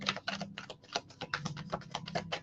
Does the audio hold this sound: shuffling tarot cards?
yes